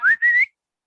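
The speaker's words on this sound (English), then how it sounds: "Whistle for her?" A person whistles to call a dog: a short two-part whistle, rising then held steady. It is loud and close, and nothing else is heard.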